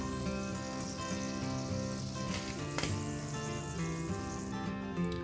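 Onion frying in about five tablespoons of cooking oil with butter for a corned beef meat pie filling, a loud, continuous sizzle with a few brief stirring clatters, no talking.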